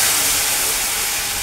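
Water poured into a hot pan of oil and fried curry leaves, a loud, dense burst of hissing steam that holds steady and only slightly fades across the short moment.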